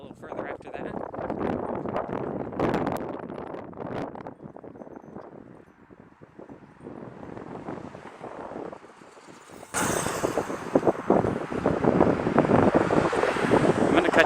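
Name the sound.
wind blowing into the microphone while walking outdoors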